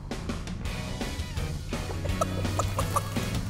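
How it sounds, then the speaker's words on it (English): Cartoon chickens clucking at night, a series of short, fairly loud clucks and squawks over a music bed, with no talking. "There are still more night chickens hiding out there in the dark."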